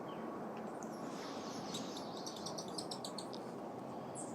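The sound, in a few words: hummingbird chirping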